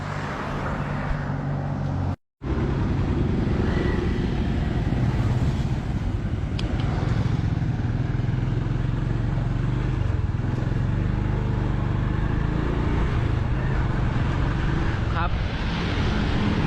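A motorbike ridden along a rural road near Mae Rim, Chiang Mai, in the evening; steady engine drone with heavy wind rush throughout, one brief dropout.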